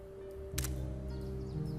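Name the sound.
Polaroid camera shutter clunk and photo whirring out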